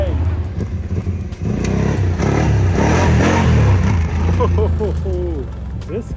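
ATV revving hard during a wheelie on pavement in front of a building, with a loud mid-pitched engine note surging and fading, while people talk and call out over it.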